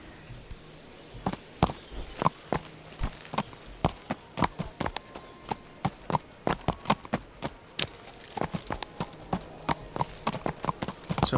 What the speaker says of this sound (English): So I got on the same horse that I came in on